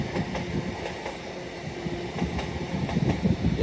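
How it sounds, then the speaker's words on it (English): A pair of TransPennine Express Class 185 diesel units pulls into York station, with a steady low rumble and faint rhythmic wheel clatter rising slightly as they come closer. "arriving now are a dual pair of TransPennine Express Class 185"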